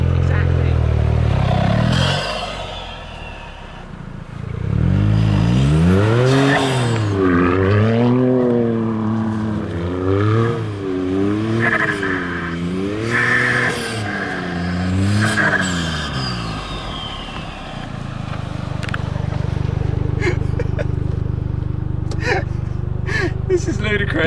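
A Toyota GR Yaris rally car with new upgrades lapping loops on grass, its engine rising and falling in repeated revving waves, loud and close. Tyre and gravel noise follow as it slows.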